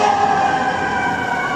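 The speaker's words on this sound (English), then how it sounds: "I always loved fire engines" A fire engine siren wails steadily as it passes on Houston Street in New York City, loud and continuous, heard through a window with no talk.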